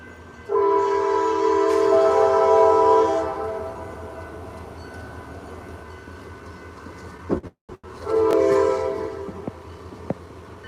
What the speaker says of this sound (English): Freaking train, hold on.